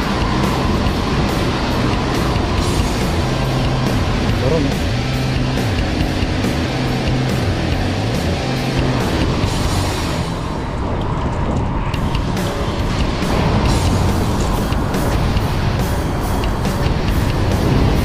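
Trucks passing on a road in Guanyin District, Taoyuan, Taiwan, heard from a moving bicycle as a continuous loud rumble of traffic mixed with wind noise.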